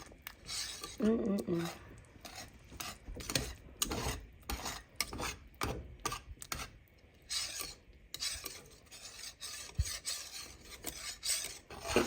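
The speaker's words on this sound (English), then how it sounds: "Add in our shrimp, let it cook together with this." Shrimp being stirred into alfredo pasta in a pan, with rasping scrapes and clinks of a utensil against the pan in irregular strokes, moderately quiet, with a voice talking in places.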